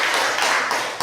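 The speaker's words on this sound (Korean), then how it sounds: "우리 감사한 박수 한번 하겠습니다" Brief burst of audience clapping in thanks at a church gathering, dense and continuous for about a second before cutting off.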